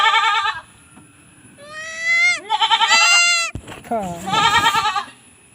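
A young goat bleats loudly several times up close, high wavering cries separated by short pauses, with a faint background hum.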